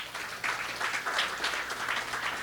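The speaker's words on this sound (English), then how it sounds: "I want you to give him a round of applause." Audience applause at a Ganesh Utsav gathering, a dense wash of clapping with gentle swells, moderately loud and close.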